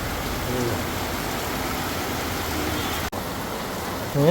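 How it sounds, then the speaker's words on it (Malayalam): A strong downpour hisses steadily, broken by one sharp momentary cut; a voice begins to speak just at the end. "ഭയങ്കര ശക്തമായ മഴ കേട്ടോ."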